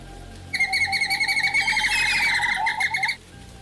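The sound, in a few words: lizards chirping and squeaking, Jurassic Park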